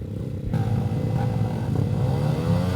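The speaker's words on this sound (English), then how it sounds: "All right, shielded down, revs are up." Racing motorcycles rev hard on the starting grid at a track race, a loud dense engine roar that swells in after a short moment, with rising, layered revving from several bikes at once.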